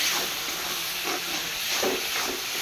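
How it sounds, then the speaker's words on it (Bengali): Spices and salt being stir-fried in a pan for chicken chowmein give a steady, close sizzling hiss with faint scraping from a spatula, no voices present. "তো এখানে আমি কিন্তু ভালো করে মশলাগুলো দিয়ে এবং নুন দিয়ে ভালো করে আবারও কষে নিচ্ছি"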